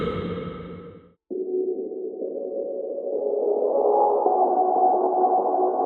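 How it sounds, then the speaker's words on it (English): Synth lead from a self-made EDM track, its low-pass filter swept open so the tone brightens steadily, with rising volume and reverb; a sustained, buzzy line plays alone after a brief break, growing louder and fuller toward the end. "I've just added that lead and automated its low pass,"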